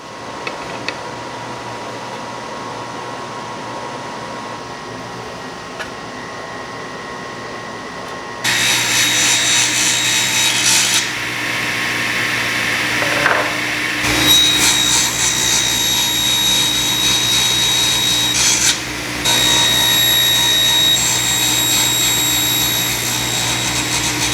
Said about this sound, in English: I cut corners out and drilled pocket holes so I could attach them to the legs